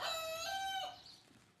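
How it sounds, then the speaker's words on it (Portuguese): A hen crowing like a rooster on a farm gives a single drawn-out, strained crow that fades out at the end, fairly distant and alone. "A galinha começou a cantar como se fosse o galo."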